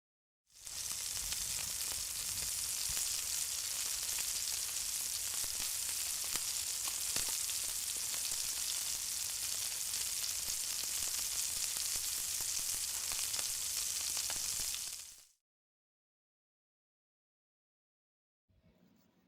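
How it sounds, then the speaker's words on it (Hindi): Chopped garlic frying in a quarter cup of oil until golden brown makes a steady, close sizzle that runs unbroken for about fifteen seconds, then cuts to silence. "सबसे पहले तेल में चॉप किया हुआ लहसुन डालेंगे और लहसुन को गोल्डन ब्राउन कर लेंगे"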